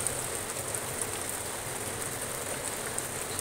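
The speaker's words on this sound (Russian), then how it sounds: "дождик пошел" Steady rain falling and pattering on surfaces, a constant even hiss with faint scattered drips throughout.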